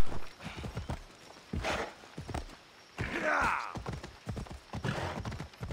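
In Assassin's Creed Odyssey, a horse's hooves clip-clop in quick bursts of footfalls, with a neigh partway through. Game voices speak intermittently over the hoofbeats.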